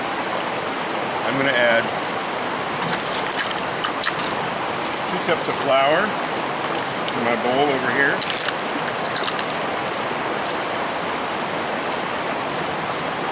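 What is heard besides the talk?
noisy creek flowing right behind the speaker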